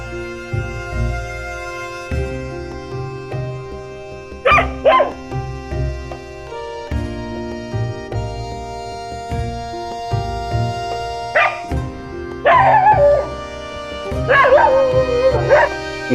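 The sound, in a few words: dogs barking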